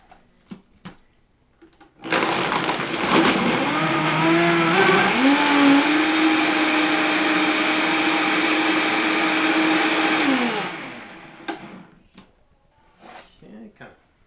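Countertop blender whirring through packed detox smoothie ingredients, a loud motor starting abruptly, rising slightly in pitch, running steadily for about eight seconds, then winding down; faint talk before and after.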